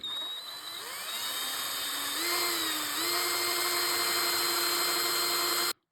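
A power drill bores into a model railroad building part, its motor whine rising as it loads up, then running at a steady, close pitch for several seconds before cutting off abruptly.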